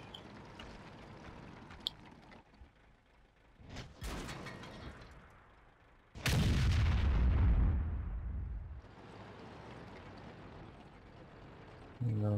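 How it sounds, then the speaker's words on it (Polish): Artillery fire in the World of Tanks game: a sharp blast near six seconds followed by a rumbling, decaying boom, with a few fainter bursts and mechanical noise earlier and a steady battle hum throughout. "Ich artyleria dobrze działa."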